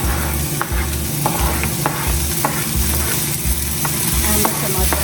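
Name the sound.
mixed capsicum frying in corn oil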